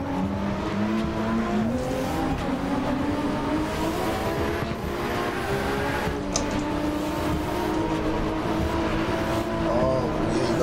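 Race cars lap a wet track in the Assetto Corsa racing game, with a constant loud engine drone whose pitch rises and falls through the gears and brief tire squeals, and no talking.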